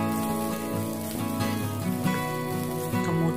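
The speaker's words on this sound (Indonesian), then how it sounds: "Panaskan wajan lagi, tuang minyak secukupnya, tumis harum bawang putih." Garlic sautés in oil in a hot wok, a steady close sizzle and crackle without talk, with background music running throughout.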